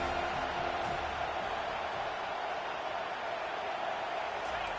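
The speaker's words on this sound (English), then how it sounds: "Decibels rising as the crowd gets behind this defense on 3rd down" A college football stadium crowd roars steadily on a third down, a dense wash of distant cheering and noise that holds throughout.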